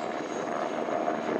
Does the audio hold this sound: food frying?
no